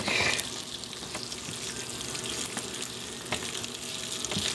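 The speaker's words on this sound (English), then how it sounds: "Too bad your camera won't pick up that sizzling sound." Popcorn sizzling steadily in a hot pan, a crackling sound with faint scraping and occasional louder pops.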